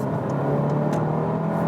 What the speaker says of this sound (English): A standard mid-speed Autobahn acceleration,